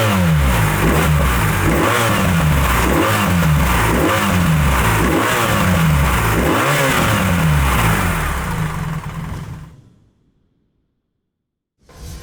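A car engine fitted with an Akrapovič exhaust revs on a test bench. Repeated loud throttle blips rise and fall in a steady rhythm for several seconds, then the engine cuts to silence before a brief final sound.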